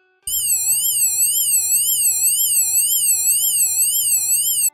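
A loud electronic siren from the sound module of a 1986 LEGO 6450 Police Mobile Truck wails continuously, sweeping rapidly up and down in a steady, shrill warble for several seconds with no other sound.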